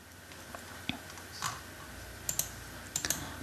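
Sparse, irregular computer keyboard keystrokes while a business tax return is filled in online, a few soft clicks at a time over a quiet background hum.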